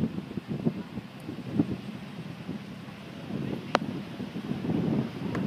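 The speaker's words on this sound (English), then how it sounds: "Beach is getting a little windy" Wind gusting across an open beach, a steady low rumble buffeting the microphone with rising and falling swells, with a faint surf-like wash beneath it throughout.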